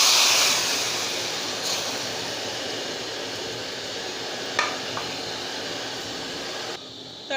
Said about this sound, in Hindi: तड़का मैं इसमें डाल रही हूँ।